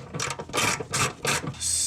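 A ratchet wrench working a corroded 10mm bolt loose from behind a Toyota front bumper, four quick bursts of rapid clicking close to the microphone with short pauses between strokes.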